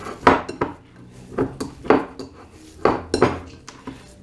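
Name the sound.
kneading soft taco dough by hand in a bowl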